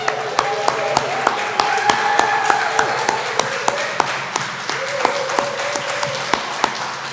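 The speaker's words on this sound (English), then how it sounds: "give yourselves a round of applause for all our great readings this week" After readings at an MFA residency, sharp separate claps sound at a fairly even pace, few and spread out rather than a dense ovation, over a tonal murmur of voices in the room.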